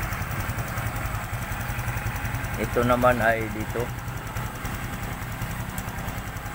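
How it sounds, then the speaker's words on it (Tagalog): A Honda XRM 125 Fi motorcycle engine that ran out of oil idles quietly after a general overhaul, a steady low putter with a short higher mechanical whine in the middle, heard under a man's close speech. "Tahimik na tahimik yung makina."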